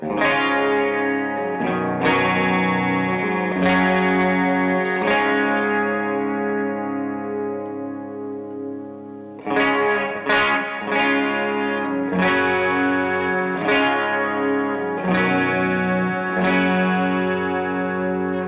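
Electric guitar chords ring out through Boss CH-1 chorus and SD-1 overdrive pedals, shimmering and slightly distorted, with several strums and sustained decays, no talking.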